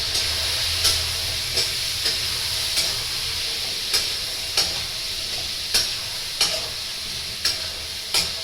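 Spice paste with cumin powder sizzles in a hot pan, a steady frying hiss broken by regular stirring scrapes about once a second, close and alone with no talk.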